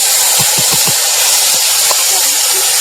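Ground spice paste hits hot oil in a wok with a loud, continuous sputtering hiss, joined by a few soft knocks early on.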